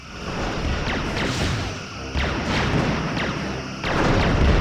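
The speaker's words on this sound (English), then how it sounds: "Lining up forward torpedo tubes." Torpedoes launch in the Star Trek Bridge Commander game, several loud whooshing shots with sweeping tails riding over a dense, continuous rumbling roar of space combat.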